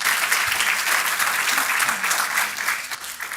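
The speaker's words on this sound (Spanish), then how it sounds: "Ahora sí, dele ese fuerte Now aplauso give that al strong Señor." A church congregation claps for the Lord in a dense, continuous burst of applause with no voices on top, staying steady throughout before easing slightly near the end.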